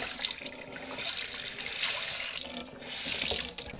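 Water runs steadily from a tap into a sink, a continuous close hiss and splash that dips briefly twice before carrying on.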